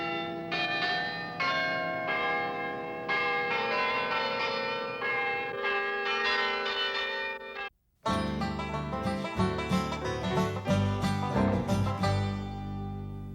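Church bells in a tower, rung by hand, peal in repeated overlapping strokes, loud and ringing with long resonant tails, pausing briefly before a denser, heavier round of bells continues.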